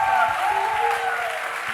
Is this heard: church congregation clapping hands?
yes